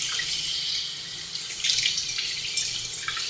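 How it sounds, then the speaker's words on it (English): Tap water runs steadily into a kitchen sink, rinsing close by in a continuous hiss and splash that swells slightly partway through, with no voices. "And I rinse it out."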